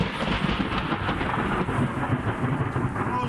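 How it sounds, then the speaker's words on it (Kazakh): A storm in the village of Aktogay, Karaganda region, with strong wind and rain mixed with hail, a loud continuous rumbling roar with steady rushing and pattering throughout, no voices. "Құйындата соққан күшті желден соң бұршақ аралас жаңбыр жауған."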